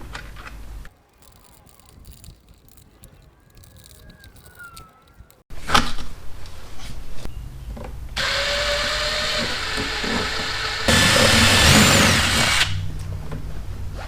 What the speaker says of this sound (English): drill those other holes out, hopefully we're good.